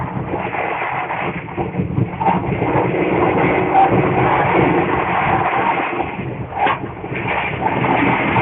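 A passenger train from Bangkok to Surat Thani rolls along in a steady, muffled rumble heard from inside the carriage, with faint rattling and no clear talk.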